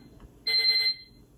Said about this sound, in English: So I'm gonna press the alarm.